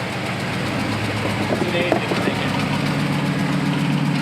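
Jeep engine idling and rumbling at low speed while crawling over an off-road obstacle, a steady near drone with faint voices in the background.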